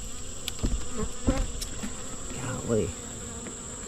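Honey bees buzzing around a beehive during feeding, a steady close drone broken by knocks from handling the frames, with one brief spoken exclamation.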